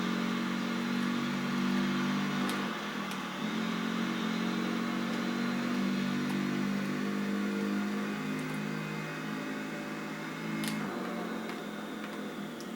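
Motorcycle engine from the racing video game Tourist Trophy, a steady sustained drone with shifting pitch as the bike revs and changes gear, loud and continuous with no talking.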